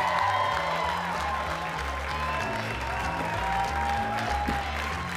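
A comedy club crowd at Gotham Comedy claps and cheers for a comedian taking the stage, over thumping walk-on music with a steady bass beat, the applause continuous and fairly loud.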